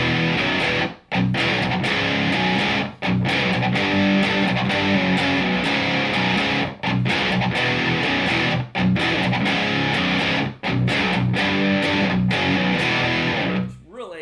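An electric guitar played through a Peavey Invective amp with the delay off and extra gain gives a loud, dense distorted riff that drives on with a few abrupt brief stops.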